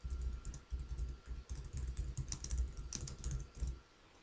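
Keys clatter on a computer keyboard in steady bursts while text is entered into a word processor during a document-formatting exercise, the clicks close and fairly quiet with no talking.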